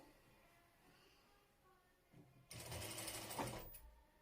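A sewing machine stitches the ruffled hem of a baby dress, running loud and steady for over a second after a brief quieter start, then stopping abruptly.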